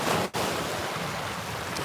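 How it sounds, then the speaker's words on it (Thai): Ocean surf at Patong Beach, Thailand, a steady broad wash of waves with one momentary dip near the start. "จะพาสัมผัสทะเลนะบัดนี้"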